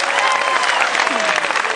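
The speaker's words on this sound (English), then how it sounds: "Give on one more big round of applause." Loud, dense audience applause at a magic show aboard the Ruby Princess, a sustained roar of many clapping hands with no break.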